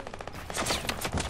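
Rapid bursts of suppressed pistol fire in a video game shooter, a quick run of sharp muffled pops in close succession with no talk over them.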